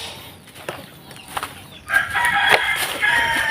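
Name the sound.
black australorp chickens clucking and crowing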